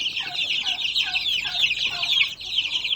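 Clucking from native chicks and a turkey on a Philippine farm, a steady high chirping chatter running continuously and fairly close, with no talk.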